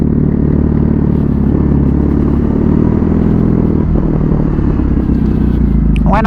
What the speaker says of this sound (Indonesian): Enak bro, suara knalpotnya moge sekali.